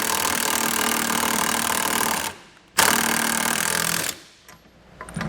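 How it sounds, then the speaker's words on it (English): Hitch bolts on a Stealth Hitches hidden rack receiver on a 2021 Volkswagen being tightened with a 15/16 socket, heard as two long, loud bursts of harsh rattling mechanical noise separated by a short pause and followed by quieter tail-off. "now we come back with a 15/16 size socket and wrench and tighten these bolts down"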